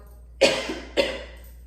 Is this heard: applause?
no